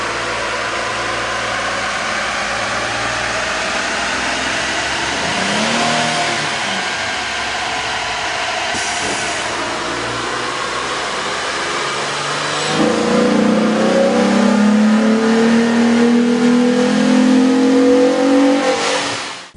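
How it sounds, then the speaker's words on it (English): A 2007 Jeep Wrangler 3.8-liter engine fitted with a K&N air intake revs on a dyno, a loud, steady drone that climbs in pitch and swells noticeably louder in its final stretch, with no talking. "we ran the vehicle on the dyno to test the sound comparison versus the stock intake"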